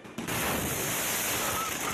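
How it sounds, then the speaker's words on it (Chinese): An explosion erupts during fireworks at a Thaipusam festival celebration in Sungai Petani, Kedah. A sudden, loud roar of broadband noise starts abruptly and holds steady, dense and rumbling, for about two seconds. "这起恐怖的爆炸意外，昨晚在吉打双溪大年举行的大宝森节庆典上发生"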